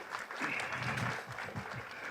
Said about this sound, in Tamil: ஸோ அவங்களுக்கு எல்லாமே நல்லா கரகோஷம் கொடுங்க